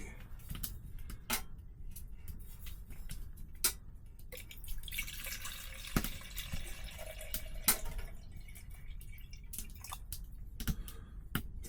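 Water poured into a pot for morning coffee inside a heated camping tent with a tiny wood stove in freezing weather; a close, steady trickling pour runs through the middle, framed by scattered drips and sharp clicks, with no talking.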